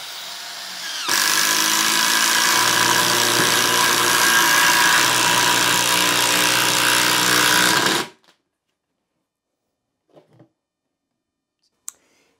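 A Ryobi brushed power tool drives a 3-inch lag screw, a loud steady motor whine with grinding load running continuously for about seven seconds, then stopping abruptly, followed by a few faint clicks.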